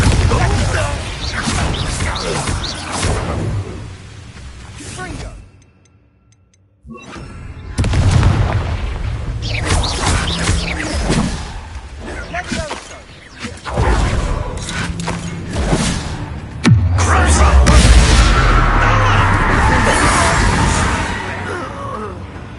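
Bombarda blast spells exploding during a goblin mine assault in Hogwarts Legacy: several heavy booming impacts with crashing debris, separated by a brief near-silent gap, then a loud deep blast near the end, with a voice shouting briefly.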